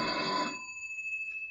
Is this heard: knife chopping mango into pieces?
no